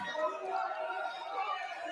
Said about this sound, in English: The crowd is so invested with this straight away.